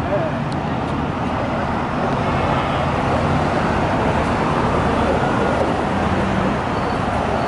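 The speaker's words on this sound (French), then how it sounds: "C'est le bus des touristes, regardez." A tourist bus amid Paris street traffic, a steady broad roar of engines and passing vehicles that fills the whole stretch without a break.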